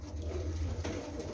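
Pigeons coo in a low, throaty murmur, close and fairly quiet, a single soft rolling call with no talking over it.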